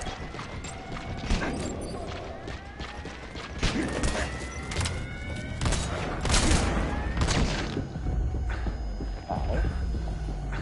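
Shotgun blasts ring out in the stealth action game Metal Gear Solid V: The Phantom Pain, several sharp booming reports spaced a few seconds apart over a busy backdrop of game effects and mechanical clatter.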